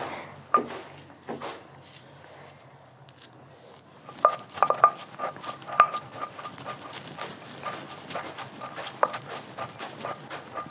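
Cardamom and cloves ground on a traditional flat stone slab with a stone roller, heard as a close, steady series of scraping and knocking strokes that quicken in the second half, with no voices.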